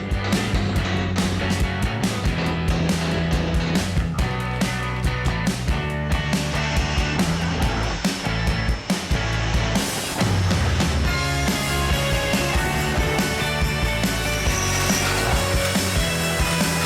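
Power drill boring a 12 mm hole in two steps through metal for a sliding-door rail sensor, a loud continuous grinding whine with rhythmic bursts and brief pauses as the bit bites.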